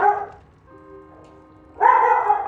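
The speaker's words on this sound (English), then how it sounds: "Oh, dog barking again." A dog barks twice at close range, a loud short bark at the start and another longer one after a quiet pause.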